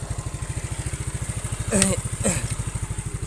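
A Yamaha Mio scooter with a sputtering, underpowered engine idles with a steady, rapid putter. It gets two short throttle blips that briefly raise the revs before it settles back to idle.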